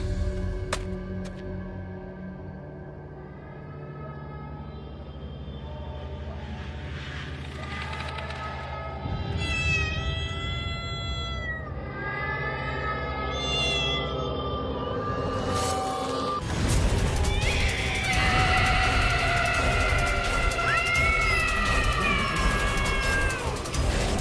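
A cat meows over and over, its cries rising and falling. Over a steady rumbling background, the meowing grows louder and more insistent toward the end.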